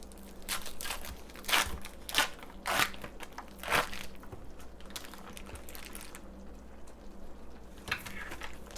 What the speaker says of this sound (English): It mixes better if you dice it up into cubes first